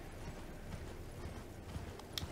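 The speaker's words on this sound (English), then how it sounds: "We'll jump on a horse." A horse mount in Elden Ring trots with steady, quick clip-clop hoofbeats under faint ambient game sound, fairly quiet but continuous, with a brief sharper clink near the end.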